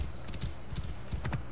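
A horse's hooves clop in a steady rhythm as it climbs a mountain slope in Assassin's Creed Origins, the hoofbeats close but quiet, with a faint snort under them.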